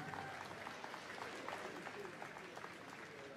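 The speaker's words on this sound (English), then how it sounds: "Give him a big round of applause," Applause from an audience at the Crufts Scrufts dog show competition, a steady wash of clapping at moderate volume that holds for a few seconds.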